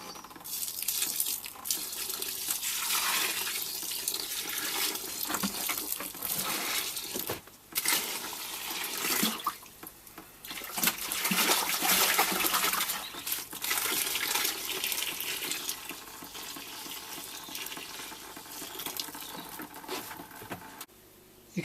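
Home-brewed pale ale wort is tipped and poured back into a boiler vessel, a steady close splashing stream of liquid that pauses briefly a few times and then resumes, with no talking.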